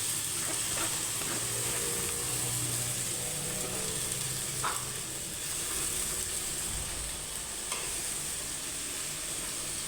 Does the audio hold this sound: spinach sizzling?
yes